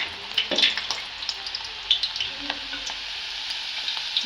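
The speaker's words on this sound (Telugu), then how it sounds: "ఆయిల్ వేడిగా అయిన తర్వాత కొద్దిగా ఉల్లిగడ్డలు అయితే కట్ చేసి వేయాలి అందులో" Sliced onions fry in hot oil for chicken biryani with a steady, close sizzle. Occasional stirring clicks and sharper pops rise above the hiss, and no voices are heard.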